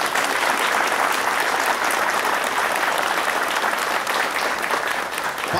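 Steady, dense applause from an assembled crowd fills the whole stretch at an oath ceremony for a municipal heritage guard in Pingo d'Água, sustained and even throughout with no talk over it.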